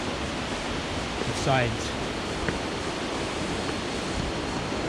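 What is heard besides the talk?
waterfall, Cascada de los Caballeros, Suaita, Colombia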